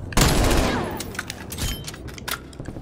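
A PPSh submachine gun without attachments fires a loud close burst in the video game Black Ops Cold War, a dense rattle that fades into scattered shots and echoes.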